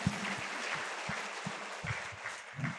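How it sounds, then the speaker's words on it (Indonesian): A talk show audience in Lombok claps briefly, a short burst of faint, scattered applause with a few louder claps standing out. "Tepuk tangan buat Lombok."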